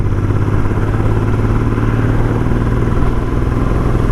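Royal Enfield Interceptor 650 motorcycle climbing a hill at around 30 mph, its engine a steady, loud, close drone with a low throbbing hum running unbroken throughout.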